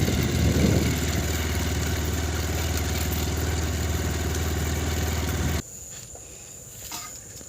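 A motorcycle engine runs steadily near a rice field, a loud, close idle with a low throbbing hum and some clatter that cuts off abruptly near the end, leaving quiet outdoor ambience.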